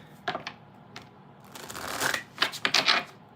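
A deck of cards is shuffled up close: a few crisp taps and flicks, then a rising riffle and quick bursts of cards snapping together.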